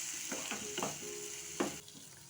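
Tomatoes cooking in a pan, a soft steady sizzle broken by a few short scraping stirs, heard up close without any talking.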